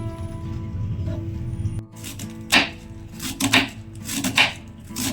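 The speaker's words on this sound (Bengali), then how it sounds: "এখানে আমি একটা বাঁধাকপিকে কেটে নেব।" A knife chopping cabbage on a board in a home kitchen, a short run of quick crisp cuts after a brief lull, close and clear, no talking.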